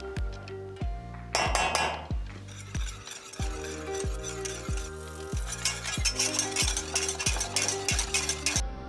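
Milk, brown sugar, heavy cream and vanilla are stirred together in a pan for hot chocolate, with clinking and scraping of a utensil against the pan under a loud, rhythmic tonal music track.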